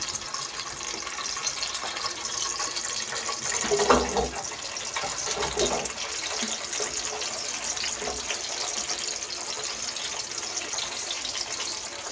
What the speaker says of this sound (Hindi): ये देखें हमारा तेल गर्म हो गया है, इसमें अभी हम डाल देंगे प्याज